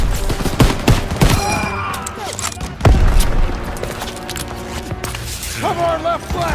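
Call of Duty WW2 Stronghold battle gunfire: rapid bursts and sharp shots with heavy booms, one big thump midway, under shouted soldier voices and battlefield din.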